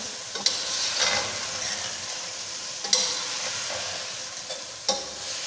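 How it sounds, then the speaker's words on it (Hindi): Ground cardamom and cumin fry in a pan for mutton yakhni pulao, giving a steady close sizzle punctuated every couple of seconds by the sharp clack of a stirring spoon. "तो थोड़ा सा भून लेते हैं।"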